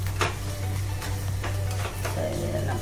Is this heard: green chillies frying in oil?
yes